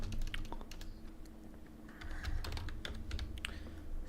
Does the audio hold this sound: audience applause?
no